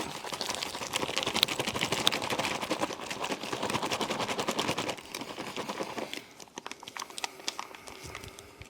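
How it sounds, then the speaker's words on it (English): A sealed US Army First Strike Ration pouch, Menu 6 pork wrap / chicken fillet from 2019, shaken hard by hand. It gives a close, rapid rattling crinkle of the plastic with no talk, easing and thinning toward the end. "Seal it back up, fold it over a couple of times, and then give it a shake."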